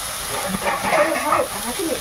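Eggplant frying in oil in a covered pan in a Sundarban village kitchen, giving a steady, close hiss of steam and sizzle with soft crackles throughout.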